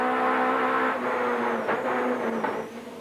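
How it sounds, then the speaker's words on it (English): Touring car engines drone steadily onboard during a 1991 BTCC race, heard from one car while a rival 2-litre Ford Sierra follows close behind, the tone shifting with gear changes. "We're looking back at Middlehurst from Hoy's car now"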